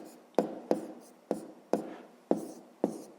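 Pen writing out a math equation on paper, a series of six short distinct scratching strokes at a steady rhythm, close and fairly quiet.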